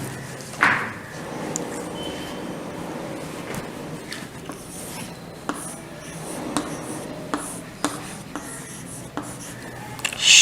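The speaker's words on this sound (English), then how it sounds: "Let me write on the board that" Chalk or marker writing on a classroom board during an English lesson, a soft continuous scratching with faint taps and small knocks scattered through the room noise, no voices.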